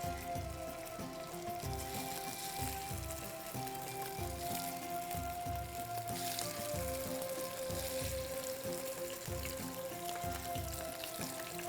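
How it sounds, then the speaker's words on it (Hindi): Marinated fish pieces fry in hot oil, added one at a time, giving a steady close crackling sizzle with dense bubbling pops throughout and no voices. "अब हम इसको एक एक पीस करके इसमें फ्राई करेंगे"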